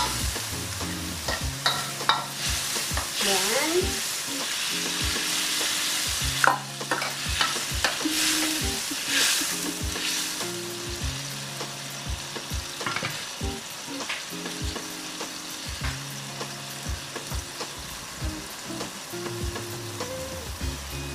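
Water goes into a hot, sizzling pan while cooking sardine pancit bihon, producing a continuous loud frying hiss with intermittent stirring scrapes and clinks and music playing underneath.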